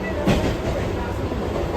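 Local train at a Mumbai railway station, a steady rumbling rush of carriages on the tracks with a brief clatter, loud and close throughout.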